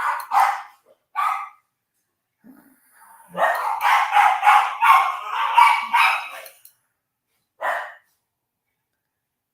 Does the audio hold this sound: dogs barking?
yes